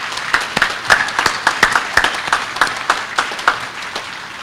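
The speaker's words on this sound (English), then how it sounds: "Ladies and gentlemen, please join me in a round of applause again for all the folks who work behind the scenes to make today possible." Audience applause fills a military change of command ceremony, a steady, moderately loud wash of many hands clapping, with individual claps standing out rhythmically throughout.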